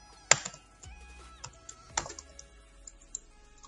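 Java code being typed on a computer keyboard gives sparse, quiet key clicks with a few sharper louder taps, irregular in rhythm, in a quiet room.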